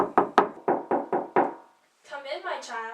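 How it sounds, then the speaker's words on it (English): Six firm knocks on a wooden door, quick and evenly spaced and close by, then a short pause before a voice speaks. "Just knock on the door."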